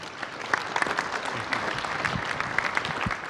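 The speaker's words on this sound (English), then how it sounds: "Give a round of applause." An audience at a business event opening session claps loudly and steadily throughout, a dense wash of applause from a large crowd.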